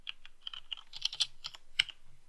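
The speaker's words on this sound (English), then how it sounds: "sorry about typing" Quick, irregular clicks of typing on a computer keyboard, close and fairly faint, with short bursts of keystrokes and brief pauses.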